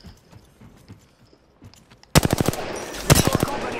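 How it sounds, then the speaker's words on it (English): Gunfire in the battle royale game Apex Legends: after quiet, faint clicks, a loud burst of rapid automatic shots breaks out, pauses briefly, then a second close burst follows. "Getting shot at."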